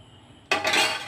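A spoon clinks against a bowl while milk is added to Oreo biscuit chocolate cake batter, a single bright clink followed by a brief ringing scrape, close and alone after near silence.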